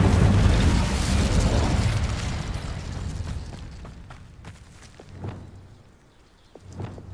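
A fire spell called Incendio erupts in the video game Hogwarts Legacy with a loud, booming burst that rumbles and fades over several seconds, followed by two soft, distant thuds.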